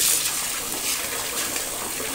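Wool knitwear being rinsed in water gives a continuous sloshing, splashing wash, close by and steady throughout, with no talk.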